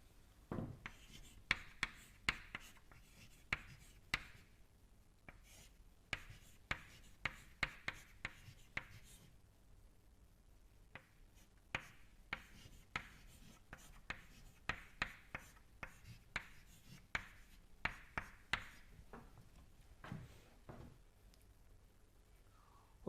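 Chalk or marker writing on a lecture board, with quiet scratchy strokes and taps arriving in irregular bursts over a hushed room for most of the stretch.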